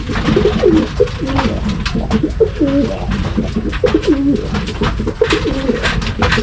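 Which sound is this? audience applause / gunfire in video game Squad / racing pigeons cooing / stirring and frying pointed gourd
racing pigeons cooing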